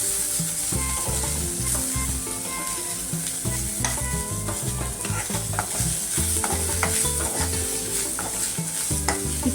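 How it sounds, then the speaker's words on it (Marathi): Coarse green chili paste sautés in a pan for a simple cabbage bhaji, giving a steady, close sizzle with scraping stir strokes throughout. "मिरचीची भरड, ती पण परतून घेऊया"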